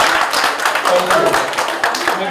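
Audience clapping during a cake cutting at a Diamond Jubilee concert, a dense steady patter of many hands throughout with some talk mixed in.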